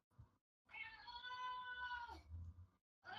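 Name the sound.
cat meowing loudly, like screaming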